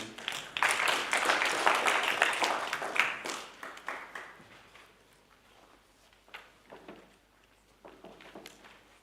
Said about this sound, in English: may we please give a round of applause to the last speaker of the day